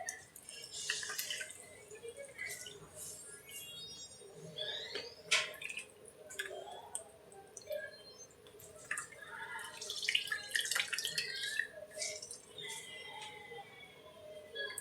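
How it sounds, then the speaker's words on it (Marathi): Slices of brown bread are dipped in water and squeezed out by hand, giving repeated wet drips, trickles and squelchy splashes at close range, irregular and fairly quiet throughout. "त्याप्रमाणे सगळे ब्रेड आपण पाण्यामध्ये पिळून काढायचे."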